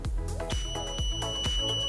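Electronic beeps from a BMW car key during comfort access key programming, a steady series of short, evenly spaced tones close by with no talk.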